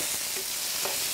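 Steady, close sizzling and crackling of beef frying in a hot pan, with small spits and pops, no voices.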